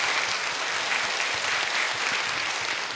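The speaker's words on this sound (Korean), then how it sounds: "여러분들이 박수 한번 보내주시면 좋겠습니다" Steady applause from a studio audience at the season one finale of a Korean Buddhist broadcast program, a dense continuous wash of clapping that holds level for the full stretch without talk.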